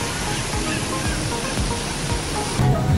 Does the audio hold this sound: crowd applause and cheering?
no